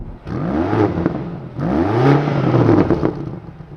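A 2023 BMW XM's exhaust heard from outside the car, loud and close: two rising revs with a deep, droning tone that climbs and settles, separated by a brief dip, with no talking.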